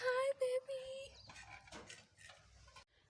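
Small pet dogs whimper and yip in thin, high-pitched whines close by, with a soft voice talking to them in a quiet home during a morning routine.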